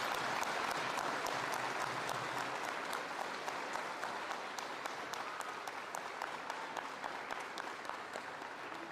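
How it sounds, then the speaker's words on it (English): A school assembly audience at a Veterans Day event applauds the national anthem singers, a steady, dense clapping that holds at an even level for the full stretch, fairly close and without talk. "Can we give them a big round of applause?"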